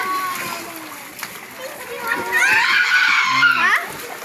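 Children splash while bathing in water, with shrieks and excited kids' voices rising over the steady wash and slosh, close and lively, and an adult voice speaking in places.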